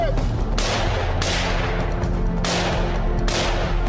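Rifle shots from Stag rifles fired on an outdoor timed shooting course, several sharp cracks spaced about a second apart over a steady background rumble.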